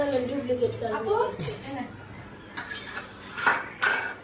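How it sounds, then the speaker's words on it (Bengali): Cutlery and dishes clinking while food is packed in a home kitchen, a few sharp metallic taps near the end following a woman's speech at the start. "ভাবি হইলো আম্মুর জন্য খাবার প্যাকিং করতেছে"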